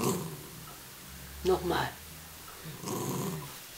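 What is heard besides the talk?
dog growling on command as a trick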